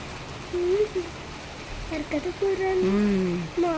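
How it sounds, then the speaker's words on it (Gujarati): Unseasonal winter rain falls steadily as a soft, faint hiss in the background, with people talking intermittently over it. "શિયાળાનો વરસાદ માવઠું."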